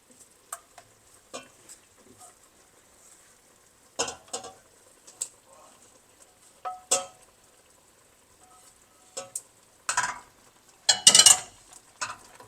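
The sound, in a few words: stirring mutton with masala in a pan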